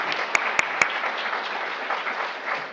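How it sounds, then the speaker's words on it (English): Steady applause from an audience at a health talk thanking a doctor, continuous clapping with a few sharp nearby claps standing out at the start. "let's give a round of applause to Dr."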